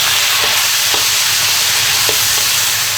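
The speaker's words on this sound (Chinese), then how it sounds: "先把锅烧热，锅热后下油。 下姜" Ginger and bean paste sizzle in hot oil in a wok, a loud, dense, steady hiss with a few faint stirring knocks scattered through it.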